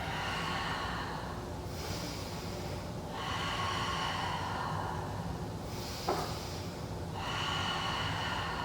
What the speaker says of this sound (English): Breathing here.